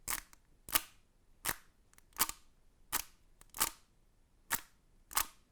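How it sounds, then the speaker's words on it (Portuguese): Thin plastic cup struck with a drumstick, eight sharp, bright clicks spaced unevenly about every half second to a second, close and clean against near silence. "temos esse pote, esse copinho plástico bem fininho, né? Que vai ser mais estridente em relação a isso."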